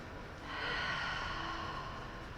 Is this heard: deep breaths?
yes